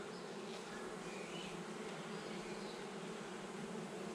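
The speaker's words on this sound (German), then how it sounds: "Seht ihr diese Biene hier mit diesem Blütenpollen?" A honey bee carrying pollen buzzes in a steady, continuous drone close by, with no breaks and no talking.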